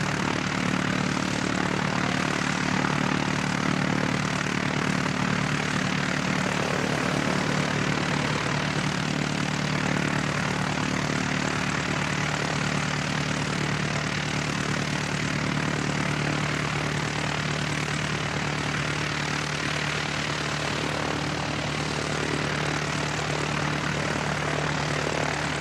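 A Jetstar airliner arriving at Christchurch Airport from Auckland makes a loud, sustained engine drone that holds steady and near for the whole stretch, with no talk.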